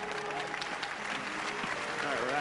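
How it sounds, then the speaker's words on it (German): A theater audience at a magic show gives warm applause for a volunteer named Nicole, a soft, distant patter of many hands with faint voices underneath. "Einen herzlichen Applaus für Nicole"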